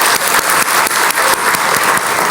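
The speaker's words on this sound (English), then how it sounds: "Let's all give them a round of applause" Audience at a college graduation ceremony clapping for graduates, loud dense applause filling the hall throughout.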